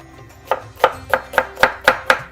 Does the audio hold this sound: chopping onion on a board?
yes